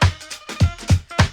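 Drums, percussion, claps and a MIDI saxophone play together in a studio mix, with a steady beat of punchy low hits about every third of a second under brighter clap and reed-like tones.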